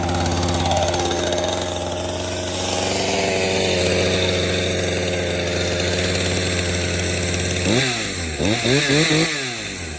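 A Craftsman chainsaw runs loud and steady close by while cutting a dead tree, with a constant engine drone that surges and dips in several quick revs near the end.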